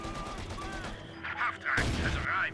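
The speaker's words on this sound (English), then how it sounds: "he's gonna fire his rifle grenade" Rifle grenade launched in the WWII strategy game Company of Heroes 2 during an urban fight, a sharp burst followed by crackling blasts amid battlefield gunfire, with a voice talking underneath.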